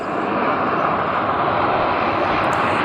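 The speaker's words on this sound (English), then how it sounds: "the plane is taxiing back to the DHL freight area where ABX normally operates" An ABX Boeing 767 cargo jet taxis under its own power at an airport, a steady, broad engine roar and whine holding at constant level, heard from a distance without a break.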